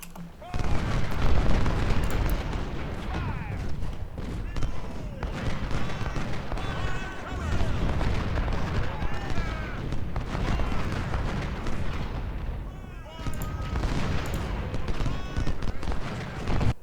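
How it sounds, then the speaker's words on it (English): Cannon and artillery fire in the strategy game Ultimate General: Civil War, dense continuous booms and crackling volleys rolling throughout, with someone talking over the battle din. "I think there's cannons back here."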